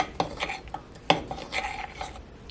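Blackberry cobbler batter stirred in a bowl with a utensil, a few scraping, clinking strokes at close range, quiet with no talk.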